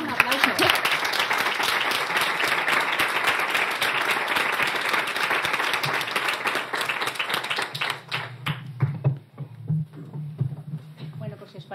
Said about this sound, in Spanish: Para ellas un aplauso.